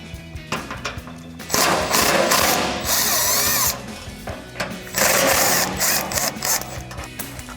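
An impact gun with a 12 mm socket whirs in two or three loud close bursts, backing bumper bolts out of a 2014-2021 Toyota Tundra, with handling clatter between bursts.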